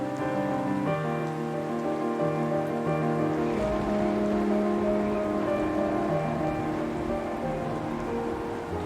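Heavy rain pours steadily on surfaces in Mawsynram village, a constant dense patter heard under sustained tonal music throughout.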